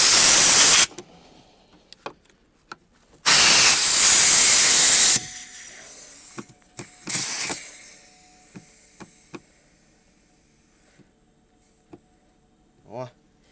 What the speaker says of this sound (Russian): Чуть пошевелились, шипит.